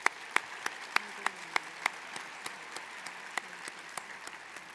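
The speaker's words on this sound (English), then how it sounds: "May we please have one more round of applause for those that are no longer with us." A small, quiet round of audience applause at an arts awards ceremony in memory of those who died, a sparse patter of claps with a few distinct, sharp close claps that slowly thin out.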